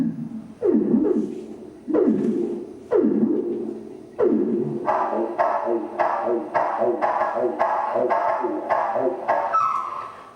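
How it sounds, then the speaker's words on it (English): Thrush nightingale song slowed down, turning into deep, echoing swoops and low pulsing throbs, then a steady run of evenly spaced rhythmic notes, loud and close with no talk. "Here's the slowed down nightingale."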